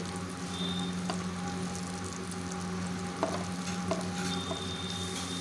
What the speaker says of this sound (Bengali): বড়াগুলো একটা সাইড ভাজা হয়ে গেছে দেখো উল্টিয়ে দিচ্ছি